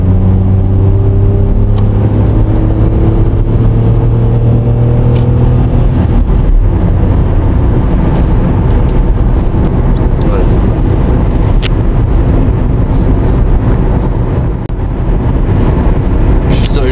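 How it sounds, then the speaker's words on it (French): Small Hyundai i10 three-cylinder petrol engine pulling and accelerating, heard from inside the cabin as a steady loud drone with rising harmonic tones, mixed with road and wind noise while people talk. "Moi j'aime bien le bruit du 3 cylindres. Ouais, c'est un petit bruit agréable."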